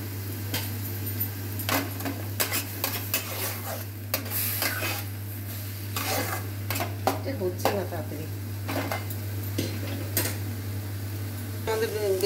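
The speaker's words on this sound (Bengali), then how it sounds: "ভাজা হয়ে গেছে, বেতশাক হয়ে গেছে" Beto shak greens stir-fry in a pan while a utensil scrapes and clatters against the metal in irregular bursts. A faint sizzle sits under a steady low hum, with no speech.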